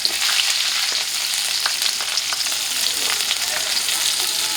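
Chopped onion and green chili frying in hot oil for a radish-greens stir-fry, a steady close sizzle with occasional light stirring clicks and no talking.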